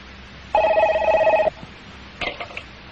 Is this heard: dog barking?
no